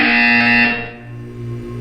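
A loud, harsh electronic buzzer in the video game Portal 2 blares steadily for about a second, then drops into a lower droning hum.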